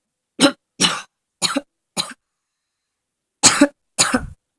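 Six sharp coughs in two bursts, four spaced out, then a pause and two more, close and dry in an otherwise quiet room.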